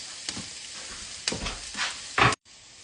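Garlic and jalapeno sizzle on very low heat in a pan, with soft frying crackle and a few brief bursts of stirring, the loudest near the end before it cuts off.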